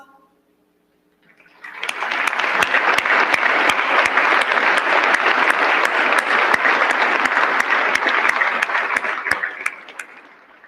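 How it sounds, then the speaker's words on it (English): Applause for Citadel alumni at a college commencement ceremony: after a brief silence, a large crowd breaks into sustained, dense clapping that holds steady for about nine seconds before starting to fade. "let us welcome you with a round of applause"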